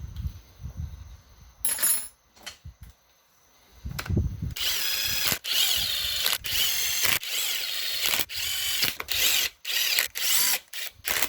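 A power tool drives bolts into a case during assembly, giving loud, close bursts of whirring and ratcheting separated by short pauses. Quieter handling noises come before the first bursts.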